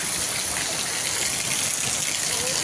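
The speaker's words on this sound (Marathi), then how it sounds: "छानपैकी पाऊस चाललाय बघा" Monsoon rain pours steadily while runoff water gushes and flows nearby, a dense, even hiss with a constant rushing undertone, close and unbroken throughout.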